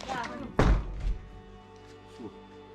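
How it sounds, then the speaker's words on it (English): A single dull thump from an explosion in a war zone in Ukraine's grey zone, heard from a distance. It lands briefly with low rumbling weight, surrounded by faint talk. "A distant explosion from the north, and the sky again is quiet."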